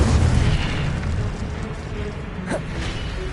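A roaring burst of the Incendio fire spell in Hogwarts Legacy opens with a loud low whoosh that fades into crackling noise, followed by a faint pop.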